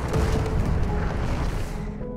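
A spaceship blows up in a science-fiction film, heard as a sustained, dense low rumble of explosion and debris that stays loud for about two seconds before fading slightly, with no voices.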